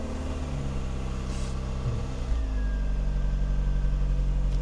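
A Rover Metro's small petrol engine, run with a bit of choke, idles steadily, then its note deepens and grows louder as it catches and settles into a rough, even idle, close by with no talk.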